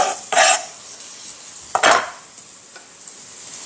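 Minced garlic hits hot oil in a frying pan over high heat, giving two short, loud sizzling bursts with quieter hiss between them and no talking.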